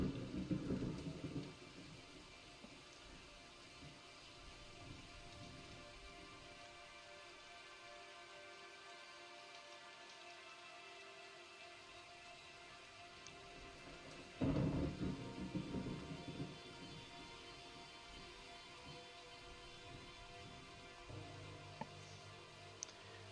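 Rainfall and thunder from the video game Daggerfall: a continuous hiss of rain with a deep rumble at the start, a quieter stretch, then a sudden loud thunderclap midway that rolls on to the end.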